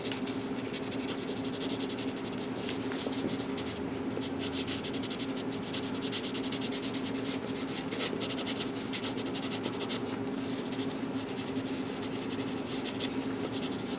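Side of a pencil sketching a tree on paper, a steady soft scratchy rasp of graphite strokes continuing evenly and close up, with no talk.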